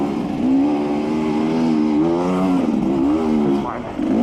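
A dirt bike on a trail revs hard and steadily, throttle held open while the clutch modulates the power, its engine note rising and dipping in wavering pitch sweeps over about four seconds. A voice may sit faintly underneath.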